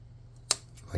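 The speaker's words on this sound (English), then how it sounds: "we're going to snip these off" A single crisp snip of scissors cutting off a small piece of material for tabletop game scenery, a short sharp click standing alone against a quiet background.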